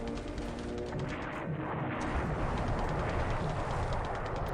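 Bomb explosions from a WITP:AE naval air strike on the carrier Zuikaku, a dense, continuous rumble of blasts and booming gunfire-like bursts filling the whole stretch at steady loudness.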